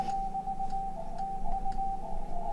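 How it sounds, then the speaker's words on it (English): Morse code CW radio signal from a ham radio station: a steady tone keyed in short and long pulses, clear and fairly loud over a low hum and hiss. "that's where this came in, Morse code."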